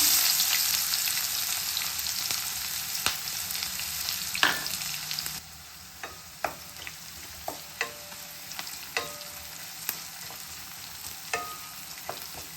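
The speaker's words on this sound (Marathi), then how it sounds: "कांदा मस्त बिलकुल होऊ द्यायचा मस्त ब्राऊन कलर येऊ द्यायचा" Sliced onion frying in oil with cinnamon, black pepper, cloves and cardamom; a loud sizzle at first that drops to a quieter fry, with a string of regular clicks from a spoon stirring the pan.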